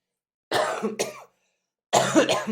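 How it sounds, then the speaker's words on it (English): Two bursts of harsh, close coughing separated by a short silence, the first a double cough trailing off, the second a louder, rougher fit. "still dealing with a cough and an allergy."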